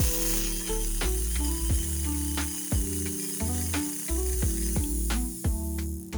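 A Mondial blender running on its pulse setting, faulty and smelling of burning, gives repeated short bursts of motor noise, each broken by rattling, ratchet-like clicks, close and with no talking.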